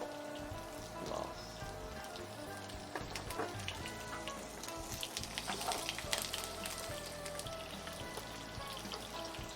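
Carrot, onion and celery stir-frying in oil for minestrone, giving a steady, soft sizzle with faint crackles and no talking.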